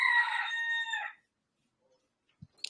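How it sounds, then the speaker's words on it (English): A rooster gives one clear, close crow lasting about a second, followed by near silence and a couple of faint clicks. "you have a chicken? I heard a chicken."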